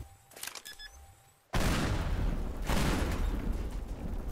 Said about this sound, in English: There are the C4s, which let you time explosions.